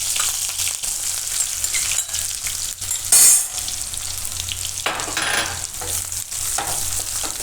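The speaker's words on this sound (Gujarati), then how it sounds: "હવે આપણે આમાં બીટ નાખી દઈશું" Thin-sliced beetroot fries in hot oil with cumin, chillies and curry leaves for a beet sabudana khichdi, a steady close sizzle with brief louder bursts as the pieces are stirred, no voices.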